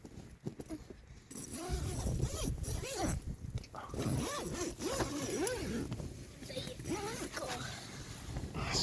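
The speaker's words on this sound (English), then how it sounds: "The zips at the top there." A zip on the door of a Hilleberg Soulo BL tent at a farm campsite is pulled open with a steady rasping run, close by, amid rustling and soft movement.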